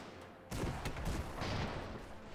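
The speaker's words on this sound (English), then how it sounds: "He's got 1, 2, 3, 4, 5, 6 rifles going at them." Massed rifle volleys crackle from a broadside of six rifles firing at an enemy airship in Airships: Conquer the Skies, a dense, continuous burst of overlapping gunfire that starts abruptly and holds steady at close range.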